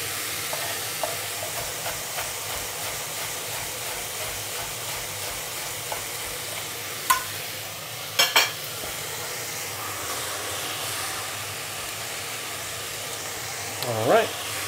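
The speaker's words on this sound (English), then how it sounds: "I'm just going to add some leeks as well." Leeks sizzle and fry steadily in a hot frying pan, with a continuous close hiss, occasional stirring clicks and a few brief louder bursts.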